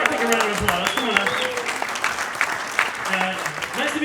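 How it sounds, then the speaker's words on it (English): Audience at a Toastmasters comedy set applauding as a man is called up on stage, steady clapping with a host's voice talking over it throughout. "give Karthik a round of applause."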